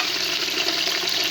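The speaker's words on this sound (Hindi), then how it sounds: "प्याज को हमें अच्छे से फ्राई कर लेना है।" Onions and beef frying in hot cooking oil for nalli nihari, a dense, steady sizzle and crackle close up with no pauses.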